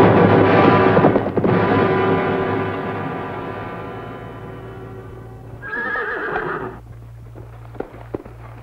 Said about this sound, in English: Been riding fast, Tonto.